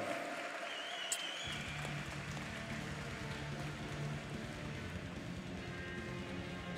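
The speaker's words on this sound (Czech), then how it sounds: "Prosím o potlesk pro oba borce před druhým kolem." Crowd applause at a K-1 kickboxing bout in the 67 kg class, a steady, dense wash of clapping that swells in after a quiet start and continues evenly without voices.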